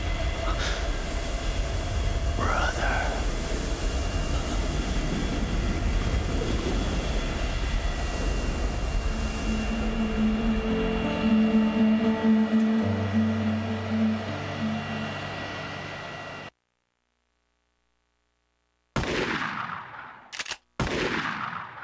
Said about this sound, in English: Grave, Mr. Cabanet, the Don's cargo plane is about to take off